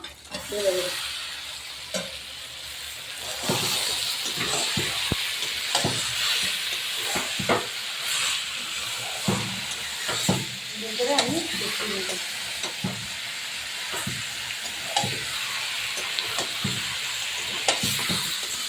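Mutton being stirred and fried with spices for a kosha curry, a steady sizzle under repeated scraping and stirring strokes at close range, with no talking.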